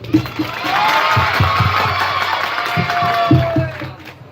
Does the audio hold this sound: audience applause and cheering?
yes